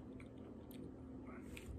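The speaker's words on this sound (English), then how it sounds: "You got to chew it for a little bit before you can." Japanese KitKat chocolate wafer being chewed close up, soft wet squishy mouth sounds over a steady low background hum, no talking.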